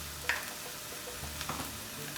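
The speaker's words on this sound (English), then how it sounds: "right now you're just cooking out the raw flavor of the spices, the ginger and the garlic" Spices, ginger and garlic fry in a pan with a soft, steady sizzle, broken by a faint scrape or two from stirring, with no one talking.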